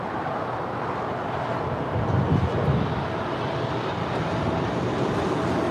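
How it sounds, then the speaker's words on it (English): A Boeing 777-300ER airliner departs LAX for Tokyo Narita, a moderate, steady jet rumble with wind buffeting and a slight swell midway, no voices. "That is a 777-300ER departing to Tokyo Narita."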